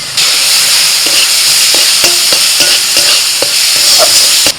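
Potato curry masala with roasted spice mix and mango powder sautéing in a pan for aloo dum: a steady loud sizzle runs throughout, broken by repeated sharp scrapes and taps of a spatula stirring.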